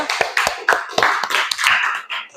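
Several sharp handclaps in quick, uneven succession, fairly close and loud, like a small group applauding; no speech.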